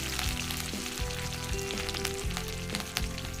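Curry leaves crackle and sizzle loudly in hot oil in a pan, a dense, steady frying hiss with small pops, close up and without speech.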